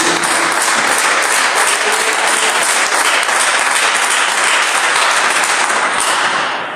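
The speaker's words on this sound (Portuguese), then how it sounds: "quem pode dar uma salva de palmas bem alegre para Jesus?" A church congregation applauds loudly and continuously for several seconds, a dense wash of many clapping hands that fades slightly at the end.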